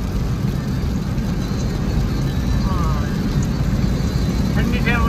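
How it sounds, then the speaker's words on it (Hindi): Heavy rain pounds a moving vehicle on the road toward Alwar, a dense, steady low roar with constant wash and engine rumble throughout, loud and close. "बहुत ही जबरदस्त बारिश हो रही है अलवर की तरफ।"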